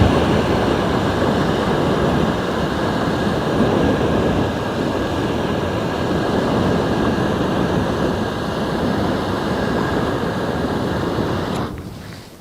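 An XM42 personal flamethrower firing a long stream of gasoline fire onto a fence, a loud, continuous roaring rush that holds steady for over ten seconds before tapering off.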